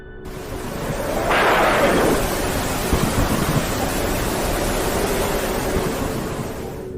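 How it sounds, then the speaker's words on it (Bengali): A thunder effect in a Bengali ghost audio story: a broad rolling rumble swells after about a second, then settles into a long, steady roar that slowly fades, with no voice over it. "আকাশ ধীরে ধীরে কালো হয়ে উঠেছিল বজ্রপাত শুরু হয়েছে"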